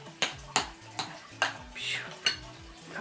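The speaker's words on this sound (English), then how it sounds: "while you're stirring it, it gets sticky" Sticky homemade moon dough being stirred in a bowl, with repeated sharp scraping knocks of a utensil against the sides roughly every half second, close and moderately loud, with a low voice murmuring underneath.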